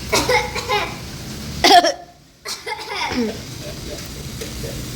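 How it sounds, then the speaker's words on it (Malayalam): A woman coughs sharply and close up, a short burst followed by a brief silence, with speech before and after. "ഇപ്പൊ എന്തോ ഈ ഒരു സമയത്ത് ചുമ വരൂ"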